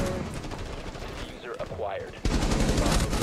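Automatic gunfire in the tactical shooter Rainbow Six Siege crackles in rapid bursts, briefly thinning under a short voice before a loud, dense volley takes over to the end.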